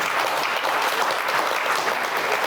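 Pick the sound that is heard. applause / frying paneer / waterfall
applause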